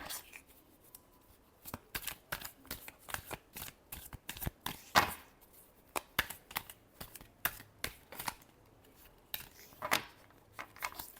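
Tarot cards are shuffled by hand at close range, a steady run of crisp riffling snaps and soft slaps stretched over several seconds with no talking.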